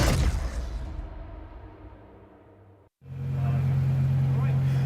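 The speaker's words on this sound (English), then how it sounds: "Here comes the Brabham of Paul Bailey, the BT62. Fantastic soundtrack that it makes" A Brabham BT62 GT race car at Snetterton during a GT Cup 2024 sprint race roars past loudly, its engine note fading away before a brief cut, then a steady engine drone continues under commentary.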